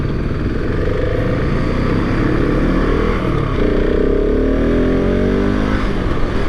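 A loud 2023 KTM 690 SMC R supermoto engine drones and revs continuously up close, pitch climbing and sweeping as the throttle opens, with heavy wind rumble throughout.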